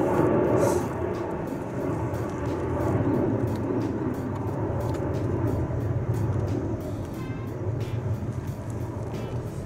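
A steady, broad roar of an airplane passing overhead fills the clip, fairly constant in level with faint clicks and small noises close by.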